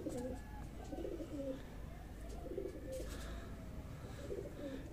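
Soft, repeated pigeon cooing in low, rolling phrases, steady over a background hum, with a faint chirp or two mixed in.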